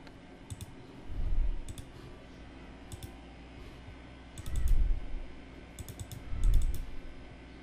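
A computer mouse gives quick double clicks, several pairs of sharp light ticks spread over a few seconds, set against low background rumble.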